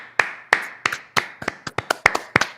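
A small group claps in short, uneven bursts, about a dozen sharp, close hand claps scattered across a couple of seconds with no talking.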